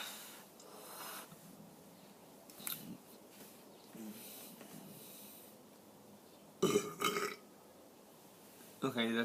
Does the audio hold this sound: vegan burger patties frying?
no